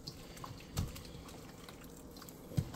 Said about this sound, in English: pour on your seasoning just like that.